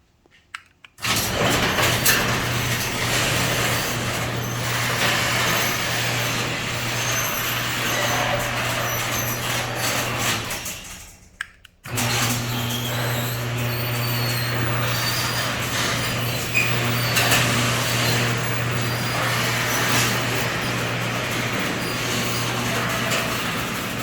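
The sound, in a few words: Chamberlain LiftMaster garage door opener opening garage door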